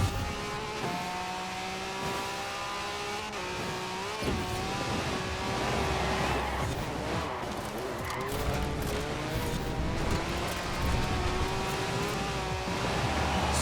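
A Can-Am Maverick races in Forza Horizon 4, its engine droning and revving steadily with pitch shifts as it accelerates and shifts gears, loud and continuous throughout.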